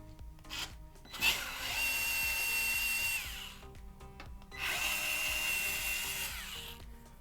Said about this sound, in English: I am using a T9 bit to unscrew them.